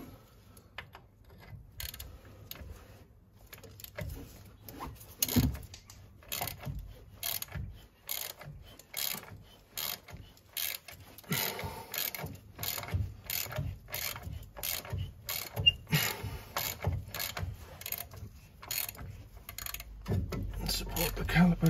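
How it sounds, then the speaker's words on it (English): Ratcheting clicks and metallic working sounds as a power bar loosens tight bolts on the brake of a 2017 Toyota Hilux, repeated sharp clicks in steady bursts, close by, with no talking. "These are quite tight, so there's a bit of a power bar on these to loosen them off."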